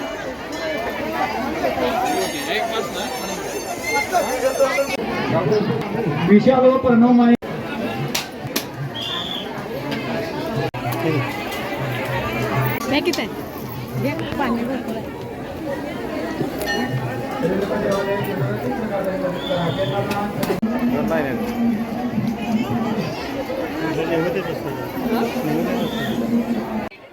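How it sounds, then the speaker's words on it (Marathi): A large crowd of devotees at the Renuka Devi temple fills the air with steady chatter and hubbub, with voices talking nearby throughout and occasional birds faintly audible. "भक्तांची अलोट अशी गर्दी ते आज पाहायला मिळत आहे"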